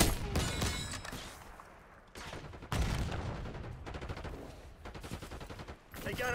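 Rapid automatic gunfire and bursts of shots in Black Ops 6 multiplayer, dense and loud with brief lulls, layered over game effects and announcer-style voice lines.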